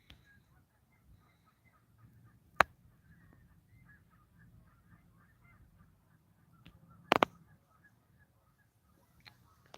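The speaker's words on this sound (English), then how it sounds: "A lot of birds getting ready to breed around here." Faint, scattered bird calls and honks ring out across a quiet open space in Sault Ste. Marie, Canada, with a few sharp clicks.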